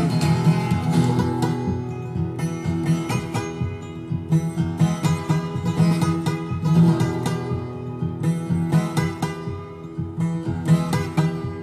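Musical imitation of a lonesome freight train whistle blowing north of town, played on guitar and harmonica in a steady, moaning rhythm with sustained wailing tones throughout, no talking.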